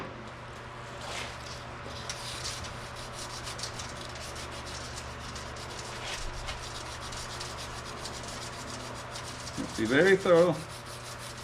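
A cast motorcycle wheel being sanded by hand with oiled 220 grit sandpaper, a steady close rubbing and scraping in repeated strokes, with a brief spoken remark near the end.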